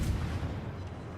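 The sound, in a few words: naval gunfire from Akizuki destroyer in World of Warships video game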